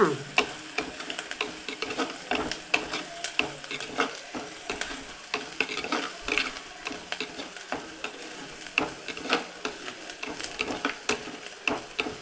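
A spoon scrapes and stirs ginger kuzhambu in a hot pan as it sizzles, with steady, rhythmic scraping strokes close up and a continuous frying hiss beneath, and no talk.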